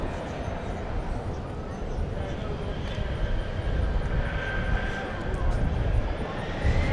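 An airliner taking off from a runway at DFW Airport, a broad continuous engine roar that swells gradually and holds loud, heard from outdoors with a faint whining tone rising above it.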